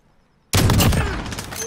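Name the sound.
gunfire in Call of Duty video game fight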